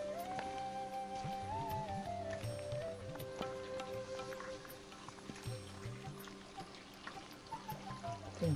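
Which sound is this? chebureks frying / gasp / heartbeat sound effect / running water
running water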